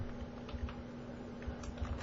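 Soft, quick keystrokes tap on a computer keyboard in an irregular patter over a faint steady electrical hum, fairly quiet and close.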